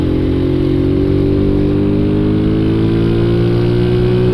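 A motorcycle engine revs steadily upward, its rising harmonic drone loud and close, continuous throughout with no voices.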